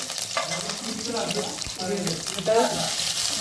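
Finely chopped green and other chillies sizzling in two spoonfuls of hot oil in a pan, being stirred; a loud, steady frying hiss with stirring sounds and a faint voice underneath.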